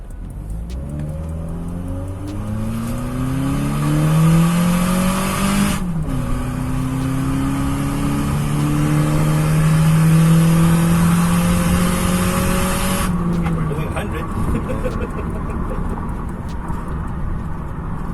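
A Mitsubishi Xpander engine with upgraded headers and midpipe exhaust revs up, holds a loud, sustained roar, then drops back to idle, heard close and alone.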